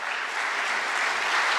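Applause from a student audience at a college induction program, honoring the Student Executive Council on stage; dense, steady clapping from many hands fills the whole moment without a break.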